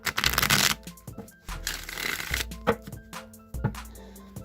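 A Rider-Waite tarot deck shuffled by hand, close papery riffles and flutters in repeated bursts with soft taps as the cards settle between passes.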